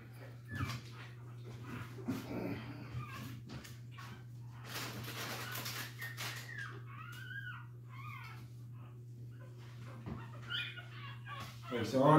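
Seven-day-old puppies whimper and let out thin, high yips in short, irregular bursts, close by over a steady low hum, with faint voices in the background.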